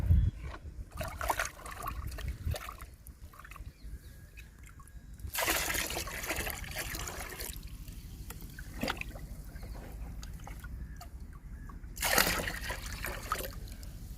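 Homemade liquid fertilizer of diluted egg powder and tea powder is poured from a mug into a bucket. Two soft splashing pours stand out against quiet trickling in the background.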